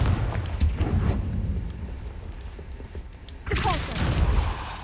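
Fire spell Confringo detonating in the Hogwarts Legacy video game: a rumbling, crackly burst near the start, then a second sharp explosive impact with a booming tail a few seconds later.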